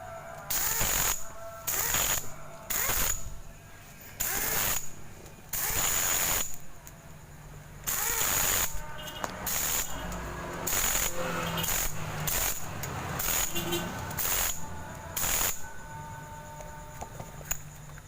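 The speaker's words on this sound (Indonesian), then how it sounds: "langsung kita akan mau kunci pada bagian baut magnetnya" A power tool tightens the magnet bolt on a Yamaha Jupiter Z motorcycle engine during a timing chain replacement, loud repeated bursts of whirring and rattling with short pauses and metallic clicks between them.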